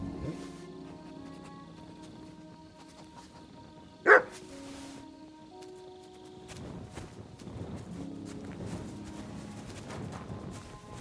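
A single sharp dog bark in the video game Kingdom Come: Deliverance II, heard once in a quiet scene, followed by soft background rustling and hoof-like clopping.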